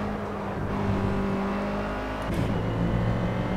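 A Renault Clio Cup race car in Project Cars runs flat out at night at Imola, heard from the interior as a loud continuous engine whine that climbs and dips with throttle, no voices.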